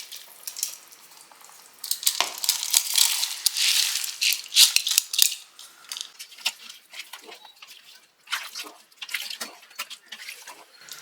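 Soaked rice for country chicken biryani tipped into a pot of boiling water and stirred, giving wet rattling, splashing and bubbling bursts that come and go over a steady simmer, close and fairly quiet with no talk.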